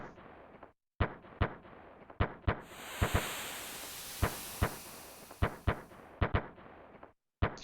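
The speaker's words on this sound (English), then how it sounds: "shooting off the fireworks and releasing the balloons at the Millennial Fair." Fireworks launching at the Millennial Fair in the Chrono Trigger video game: a string of sharp, loud pops and bangs at an uneven rhythm, with a sustained crackling hiss swelling through the middle.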